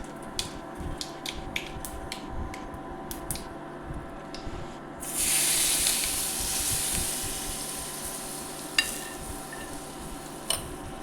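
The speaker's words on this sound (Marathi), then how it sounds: "हा तडका आता आपण चटणीवर टाकू" Hot tadka of curry leaves and asafoetida hits a raw mango and coconut chutney, bursting into a bright, loud sizzle midway after a few light clicks, then hissing down steadily.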